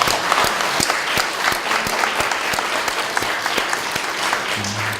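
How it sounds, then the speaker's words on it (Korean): A church congregation applauds at a 25th founding anniversary service, a dense, steady round of clapping close by that continues evenly, with brief speech entering near the end. "우리 감사의 박수 하나님께 올려드리겠습니다"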